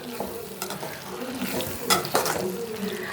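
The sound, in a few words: capsicum being stirred while frying in a pan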